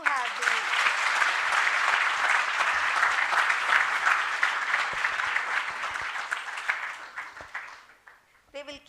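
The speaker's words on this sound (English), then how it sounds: "And a big round of applause for Professor Ruchi and Professor Taral's te" An audience at a university orientation event gives steady, dense applause for several seconds, tapering off into a few scattered claps at the end.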